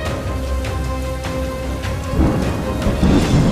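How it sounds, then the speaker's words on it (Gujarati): Heavy monsoon rain pours steadily over Banaskantha, a dense broadband wash that swells louder in the second half, with a low rumble beneath suggesting distant thunder; no voices. "ધોધમાર વરસાદે વધારી લોકોની મુશ્કેલી"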